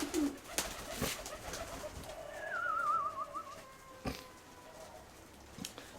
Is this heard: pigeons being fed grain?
yes